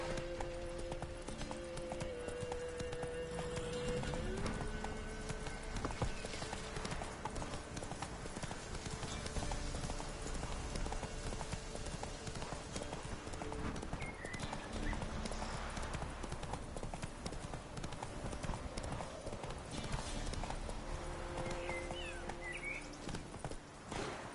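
Horse hooves clip-clop steadily at a fast pace in The Witcher 3 video game, a continuous rhythmic gallop under a bed of game ambience and music.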